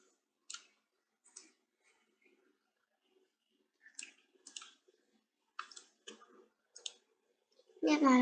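A computer mouse double-clicks on a desk, making sharp, close, quiet click pairs spaced out over several seconds, with a louder burst of noise at the very end.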